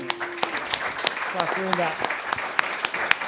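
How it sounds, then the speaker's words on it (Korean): Brief, scattered applause from a conference audience welcoming a discussant. Sharp individual claps ring out as a voice briefly speaks over them. "또 박수로 맞이해 주시면 고맙겠습니다"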